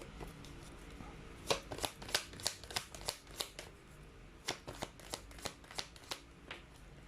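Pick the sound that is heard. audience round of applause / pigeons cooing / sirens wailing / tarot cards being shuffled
tarot cards being shuffled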